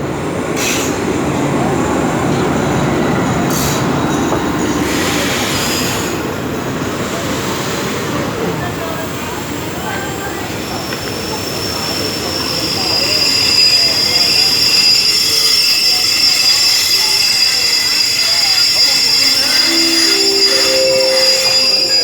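Alsthom locomotive 4118 hauling rapid train 111 into Bang Mun Nak station, wheels rumbling and squealing as the carriages roll in close by, with a faint voice in the background.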